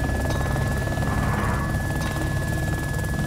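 A helicopter in the survival video game DayZ runs steadily at a light throttle, its dense rotor chop and turbine whine constant and close, with a faint high tone, no speech.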